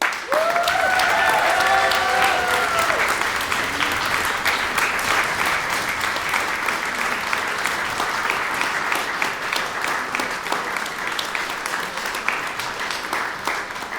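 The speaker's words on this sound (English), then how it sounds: "So please, a big, big, big, big applause to..." Sustained audience applause fills a prize concert hall, a continuous dense wash of clapping that holds steady for many seconds, with a few brief voices audible near the start.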